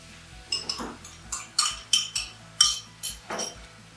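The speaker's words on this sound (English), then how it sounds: "Give that a quick stir around as well. Just to incorporate everything into that mince." A utensil stirs chopped tomatoes into mince in a pan for spaghetti bolognese, giving about ten sharp metallic clinks and scrapes against the pan at a quick, uneven pace, close and alone.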